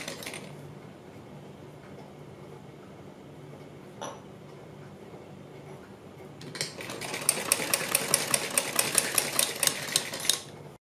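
A sewing machine stitches along marked lines of a neck design on buckram, starting after a quieter stretch and running as a steady, fairly loud rapid stitching rattle through the final few seconds.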